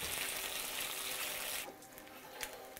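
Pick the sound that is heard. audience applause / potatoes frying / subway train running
potatoes frying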